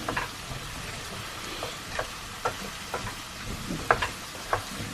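Onions frying in a pan used for corned beef hash stew, sizzling steadily with scattered sharp crackles and pops, close and alone with no talk.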